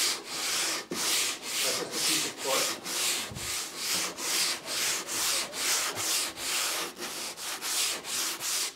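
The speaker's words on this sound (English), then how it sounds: "progressing through the sanding grits" Steady back-and-forth hand sanding on wood with sandpaper, about two strokes per second, each pass a dry rasping hiss, close by with no talking.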